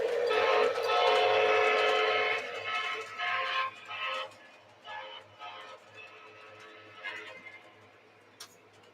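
Lionel TrainMaster model train locomotive backing up: a bright electronic horn-like tone, then shorter tonal bursts with small ticking clicks, fairly close over a faint low hum.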